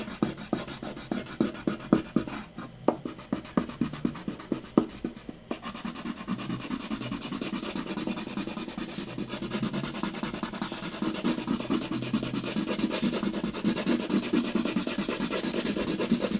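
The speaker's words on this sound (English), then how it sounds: "it is so noisy because my paper is on a piece of wood, so it makes it really, really noisy" Colored pencil scrubs across paper laid on a piece of wood, first in short separate scratchy strokes, then in dense continuous back-and-forth rubbing that gets steadier and louder, heard up close.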